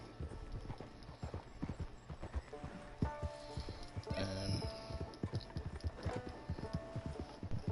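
A horse's hooves clip-clop in a PS4 video game, a steady walking rhythm of close, distinct thuds running throughout, with a faint game hum and a brief tonal chime partway through.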